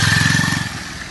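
A motorcycle passes close by on a potholed village road, its engine buzzing loudly for a moment before quickly fading off.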